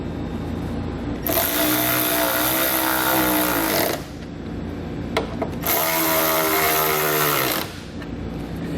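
Power tool tightening hardware during a trailer wiring install runs in two long, loud bursts of a few seconds each, a steady whirring drone with a short pause between them and no talking.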